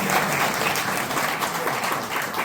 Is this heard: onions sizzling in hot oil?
no